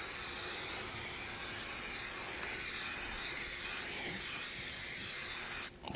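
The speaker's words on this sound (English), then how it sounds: "So I might spray it down another time." A steady, loud hiss of cleaner sprayed onto a Yoder smoker runs continuously for several seconds, then cuts off abruptly near the end.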